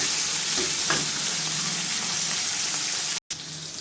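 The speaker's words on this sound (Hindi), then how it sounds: "इनको अच्छे से हम चला देंगे" Chopped tomato and kasuri methi sizzle and fry in a pan while being stirred, a steady close hiss with scraping strokes of the spoon, cut off briefly near the end.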